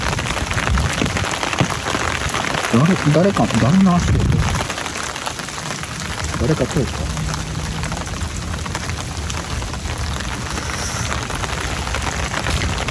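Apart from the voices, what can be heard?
heavy rain falling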